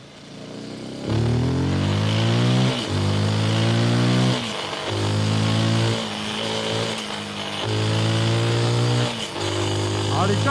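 A Rieju 307 Aventura Rally 2025 adventure motorcycle ridden through town, its single engine revving up through the gears in repeated rising pulls with short shifts between them, loud and close, with someone talking over it.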